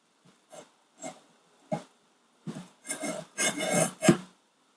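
A knife is honed on a Wicked Edge Go guided sharpener to remove a burr, with a series of short rasping strokes that start sparse and quiet, then come faster and louder in close succession.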